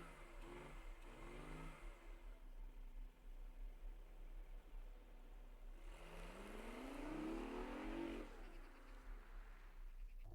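BMW i8 hybrid sports car with a 3-cylinder engine, its sound piped through cabin speakers, heard from inside as two rising revs with a muffled, droning engine note over faint road noise.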